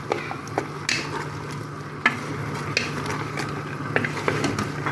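Onions frying in a pan for a traditional Kabyle couscous dish, with an even low sizzle broken by scattered clicks and taps of a stirring utensil against the pan, fairly close.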